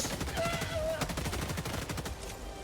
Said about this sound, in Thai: ยิงหัวก็ไม่ไหวต้องยิงปากยังยิงปากมัน